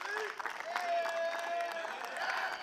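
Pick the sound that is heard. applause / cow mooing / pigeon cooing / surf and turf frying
applause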